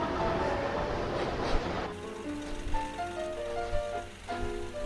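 Trains rumble along in the railway simulation game Chris Sawyer's Locomotion, a dense rolling noise at first that gives way to quieter running sounds with soft musical tones, no voices.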